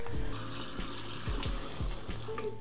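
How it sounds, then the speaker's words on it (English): Plant roots rinsed under a running kitchen tap during repotting, a steady close rush of water hitting the sink with uneven splashing as the roots move through the stream, with no voices. "We may as well rinse these roots."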